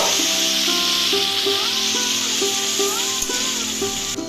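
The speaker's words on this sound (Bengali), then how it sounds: "তারপর মেখে রাখা মাংসের কিমাকে সেই তেলের মধ্যে ঢেলে নিলাম" Marinated minced meat poured into hot oil spiced with whole dried chillies, bay leaf and cumin in a wok hisses in a loud, continuous sizzle, with background music playing throughout.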